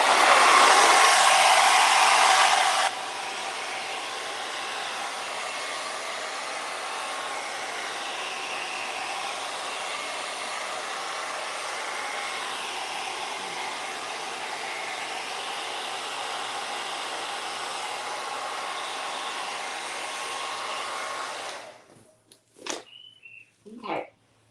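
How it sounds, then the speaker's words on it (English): A hair dryer blows steadily as a continuous broadband whoosh, louder at the very start, then running evenly for about twenty seconds before cutting off. "Grab my blow dryer."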